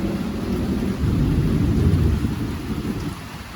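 Steady rain pours down with a deep rumble of thunder rolling through the middle, fairly close and loud, no voices.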